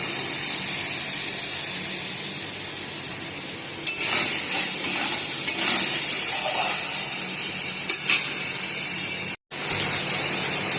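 Stuffed pointed gourds sizzling in spiced oil in a pan, a steady loud frying hiss with occasional sharper crackles and stirring scrapes, alone without talk.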